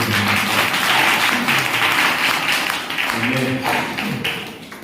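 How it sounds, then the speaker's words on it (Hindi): A church congregation in a worship hall claps hands for the Lord in a dense, sustained burst of applause, with voices and low murmuring mixed in under the clapping. "ताली बजा के प्रभु को"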